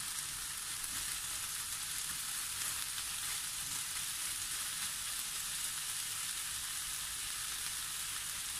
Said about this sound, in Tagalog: ilalagay na natin ang ating sibuyas